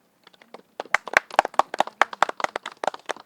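Audience gives a burst of applause at a pyramid meditation centre's anniversary celebration, starting with a few scattered claps and quickly building into lively, crisp clapping from a modest crowd.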